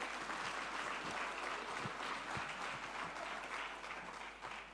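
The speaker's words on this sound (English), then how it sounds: "Can we give the DG a round of applause" A conference audience gives the Director-General a thin, faint round of applause, a steady patter of scattered clapping throughout without any cheering.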